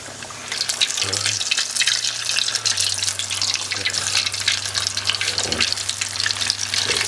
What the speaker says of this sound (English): my vegetable oil has heated up. I'm going to add I think maybe 8 of these wings